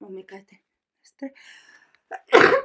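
A single sharp, loud sneeze bursts out at the end after a few quiet spoken words and pauses.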